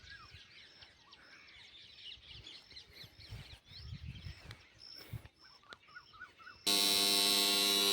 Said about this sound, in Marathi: हे बघा पक्ष्यांचा आवाज एकदम मस्त